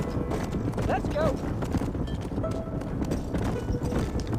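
Horse hooves clip-clop steadily in Red Dead Redemption, a quick even rhythm at moderate loudness with someone talking over it.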